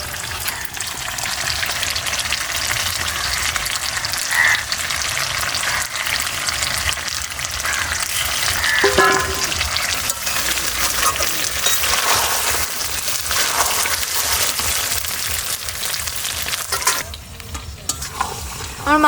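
Duck meat with fried potatoes sizzles steadily in a pan for a rustic duck curry, with repeated scraping and clattering of a spatula stirring the mix, close and loud over a long stretch.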